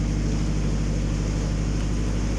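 A canal boat engine running steadily at about 1400 revs inside Shortwood Tunnel on the Worcester & Birmingham Canal: a constant low throbbing drone with a reverberant hum, loud and unbroken, with no talking.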